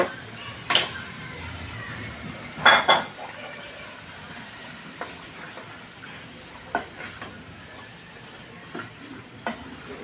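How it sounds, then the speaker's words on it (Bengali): Raw desi chicken pieces go into a pan of fried spice paste for a curry: a steady low sizzle under sharp metal clatters and scrapes of the spoon, with a cluster of knocks early on and lighter clinks after. "মশলাটা কষানো শেষ, দিয়ে দিচ্ছি মাংস।"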